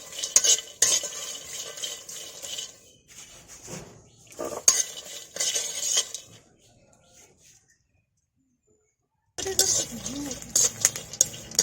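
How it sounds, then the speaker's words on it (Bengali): Garlic frying in a pan with metal stirring, bursts of sizzling and utensil scraping broken by a quiet gap, fairly faint and close, no talk. "রসুনগুলো আগে অর্ধেক ভেজে নিব, তারপরে মরিচ দিয়ে দেব।"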